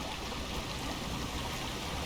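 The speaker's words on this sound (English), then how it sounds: "Beautiful waterfall." Waterfall at Goldberry Spring in a video game, a steady continuous rush of falling water, even and unbroken, with no voices over it.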